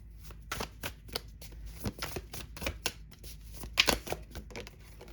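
Tarot and oracle card decks being shuffled close up, a series of soft flicking riffles and card slaps in an irregular rhythm over a low background hum.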